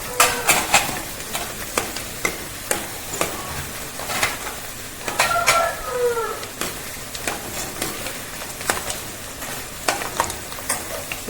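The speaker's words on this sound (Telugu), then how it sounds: "ఈ పప్పులు కూడా వేగిన తర్వాత ఎండుమిర్చి వేసుకోవాలి." Lentils and dried red chillies fry in hot oil in a pan, crackling and sizzling steadily with sharp popping bursts and stirring scrapes throughout, close and fairly loud, with no voices.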